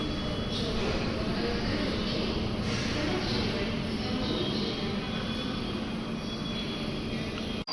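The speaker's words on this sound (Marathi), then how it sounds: "इथे मेट्रो आलेली आहे" A Mumbai Metro Line 3 train pulls into an underground station, a steady loud rumble and whoosh of rolling stock that fills the space and holds nearly constant throughout, ending with a brief dip.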